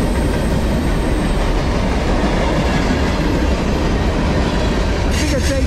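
Norfolk Southern manifest freight train 18G, led by a rebuilt AC44C6M locomotive, rolls past close by at 5 am, a loud, steady rumble and clatter of cars that carries on without a break, with a brief metallic squeal near the end.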